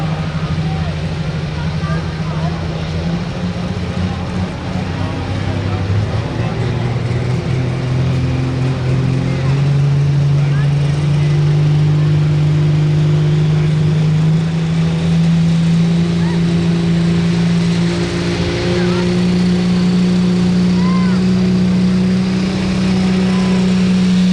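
International 1566 pulling tractor at a limited pro tractor pull in Iowa, a loud continuous engine roar with a rising tone, under an announcer's voice talking throughout.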